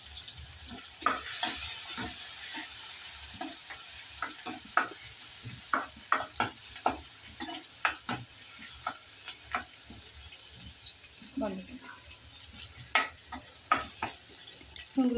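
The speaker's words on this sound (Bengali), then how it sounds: "তার জন্য আমি কড়াইতে তেল ঢেলে দিচ্ছি, রসুনগুলো দিচ্ছি।" Garlic cloves fry in hot oil in a wok, giving a steady close sizzle broken by scattered clicks and scrapes of stirring; no one speaks.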